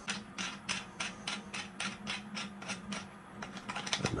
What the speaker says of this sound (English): I'm going to go ahead and unscrew my barrel nut.